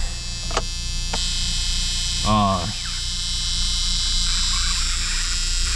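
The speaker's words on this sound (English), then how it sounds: "Well, it beeps at you." A short electronic beep from a Dodge Charger 2.2's electrical system sounds once over a steady engine-like hum, with faint clicks and buzzing noises around it.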